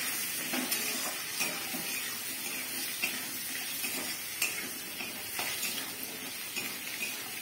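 Pieces of silver carp fish sizzle in hot oil in a pan while being stirred with turmeric, a steady frying hiss with scattered scraping clinks of a utensil against the pan throughout.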